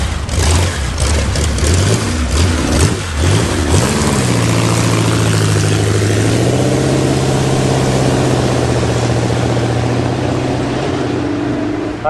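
A quick period motor car paired with a Lagonda roars past, its engine loud and close, revving through several rising pitch sweeps before settling into a steady, sustained drone with another engine underneath.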